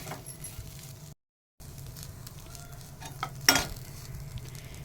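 Grated coconut, shallots, curry leaves, pepper and ginger fry in a pan for theeyal, giving a low steady sizzle with light stirring scrapes, a brief dropout, and a sharper clatter near the end.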